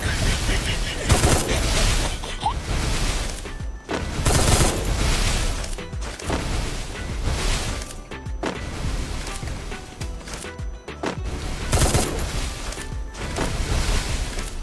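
Rapid bursts of gunfire and shots ring out through a shooting video game match, near and loud, with brief gaps between volleys.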